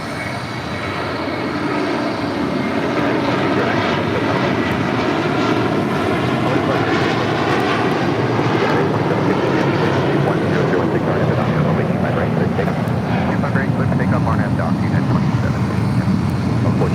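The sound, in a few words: United Airlines Boeing 757-200 departing LAX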